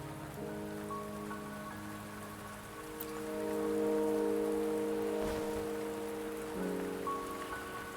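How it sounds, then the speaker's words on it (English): Steady rain patters across an outdoor scene in the video game Wuthering Waves, a constant even hiss with soft sustained tones ringing underneath and no voices. "Don't worry, the rain won't last much longer."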